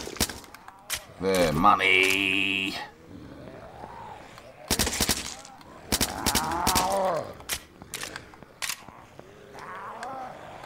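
Machine pistol bursts rattle through a Blood Waves zombie fight, short loud clusters of rapid shots broken by pauses, with someone talking between and under the firing.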